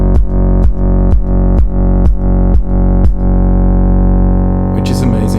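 A punchy kick drum thumps about seven times in a steady beat over a distorted synth bass that ducks in time through sidechain compression. The kick stops near the end and the bass drones on alone.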